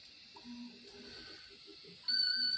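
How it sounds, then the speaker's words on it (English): An FT4 digital-mode signal sent from a PRC2200 radio transceiver starts late as steady electronic tones, alone over faint background noise and hum. "So we're going to be sending a FT4 signal,"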